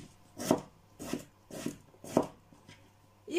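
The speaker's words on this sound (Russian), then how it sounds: "Свекла. Но она у меня не вареная. Просто нарезаем ее." A knife slices raw, uncooked beetroot on a cutting board: about six crisp, separate chops at irregular half-second intervals, close and fairly quiet, with no talking.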